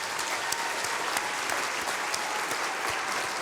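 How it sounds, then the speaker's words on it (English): Steady, dense applause from an audience at an Indy 500 victory celebration, sustained clapping at a moderate distance with no voices standing out. "big applause for them"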